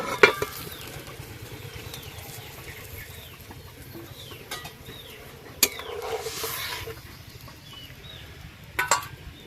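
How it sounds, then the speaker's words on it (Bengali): Fried potatoes tumble into a pot of simmering fish curry broth, with a low bubbling sizzle throughout, a few sharp clinks and stirring scrapes, and faint birds chirping in the background. "এবার ওই ঝোলের মধ্যে ভেজে রাখা আলুগুলো দিয়ে দেব।"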